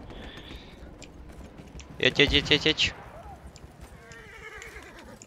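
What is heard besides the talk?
horse galloping and neighing in the video game Battlefield 1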